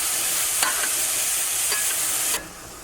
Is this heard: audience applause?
no